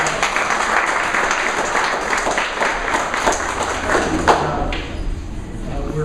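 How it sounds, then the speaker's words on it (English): Audience at a community center grand opening claps for a returning city council member, steady applause with some thumps and murmuring, tapering off near the end. "Please give him a round of applause."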